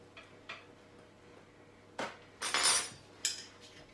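A little spoon clinking against a bowl while making chocolate tiffins, a few faint light taps early, then a sharper cluster of louder clinks and scraping near the end, without talk.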